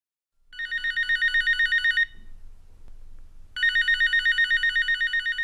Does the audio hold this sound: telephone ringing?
yes